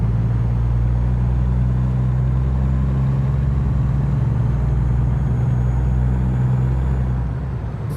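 A truck rolling along a road in American Truck Simulator, its engine a steady low drone with constant road rumble, loud and unbroken, easing slightly at the very end.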